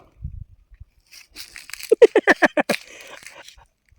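An Indian gooseberry picked up in a Konkan village is bitten into and chewed, giving a quick run of about seven crisp, close crunches after a brief laugh.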